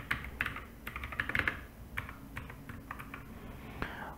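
A computer keyboard clatters as a username is typed into an Upwork account signup form, with quick bursts of close, crisp keystrokes and short pauses between them.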